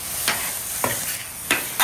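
Benihana-style fried rice with sesame seeds is stir-fried on a hot griddle: a soft background sizzle cut by four quick, loud spatula scrapes at uneven intervals.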